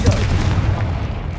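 A Confringo blasting spell detonating in Hogwarts Legacy, a loud, deep booming burst with heavy low rumble that rolls on and slowly fades across the short moment.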